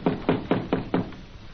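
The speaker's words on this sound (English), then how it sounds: "Roy knocks at the cabin door." Five evenly spaced knocks strike a wooden cabin door in an old western, hollow and close, followed by a short quiet pause.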